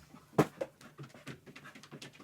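A dog whimpers indoors at home, one sharp close yelp followed by a string of softer whines and snuffly breaths, with no speech.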